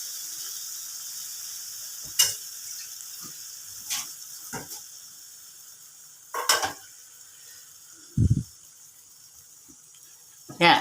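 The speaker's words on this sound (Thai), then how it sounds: "ผัดถั่วงอก กับลูกชิ้นปลาเส้น" Bean sprouts stir-fried in a hot pan with fish balls, shiitake and wood ear mushrooms, giving a soft, steady sizzle with a few sharp utensil clanks and scrapes spaced through it.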